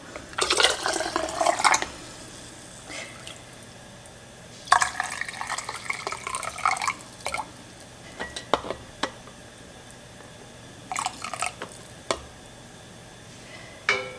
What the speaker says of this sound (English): So I've got my funnel, and I'm just going to get these all filled.